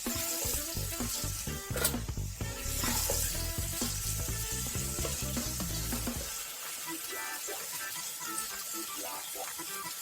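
Sauce ingredients with a pinch of chili pepper sautéing over medium heat, a steady close sizzle with stirring scrapes, loud and continuous, thinning out in the final seconds.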